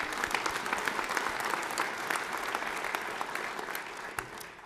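Chamber audience at New Mexico's State of the State address applauding, a dense, even patter of many hands that continues throughout and tapers slightly at the end.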